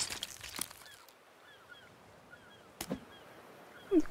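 Seagulls call in the distance in the video game The Forest, several thin, scattered cries over a quiet outdoor ambience, broken by a few sharp knocks and one louder honk near the end.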